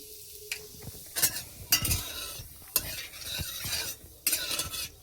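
Asafoetida tempering sizzles in hot oil in a pan, heard as short bursts of crackling sizzle and scraping stirs coming in uneven spurts, fairly quiet and close, with no voices.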